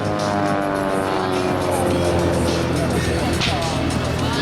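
A Pitts Special aerobatic biplane with a four-cylinder Lycoming boxer engine drones loudly and steadily at an air show in Jesolo, its engine note rising in pitch as it passes, with someone speaking over it.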